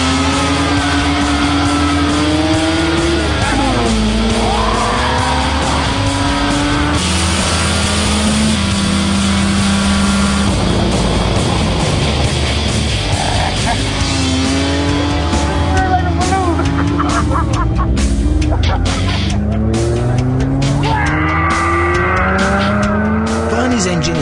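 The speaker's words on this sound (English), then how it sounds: "engine is roaring like a tiger" The engine of a modified car pushed to about 300 brake horsepower roars during a road test on English country roads, rising and falling through the gears with loud revving and tire noise under steady talk.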